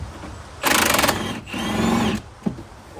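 An impact wrench set to bolt breaker mode hammers at a car's bolt in a short, fast rattling burst, then spins in a brief whir before stopping, close by.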